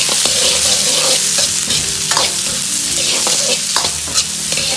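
Celery pieces stir-fried in a wok with chili, ginger and garlic, a loud steady sizzle with continuous scraping and tossing of the spatula, close and without talk.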